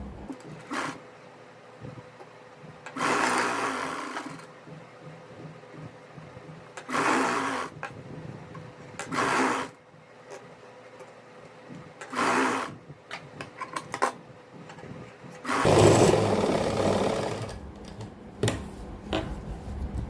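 A sewing machine stitches buckram onto a salwar hem in a series of short whirring bursts separated by quiet pauses, ending with one longer run of stitching.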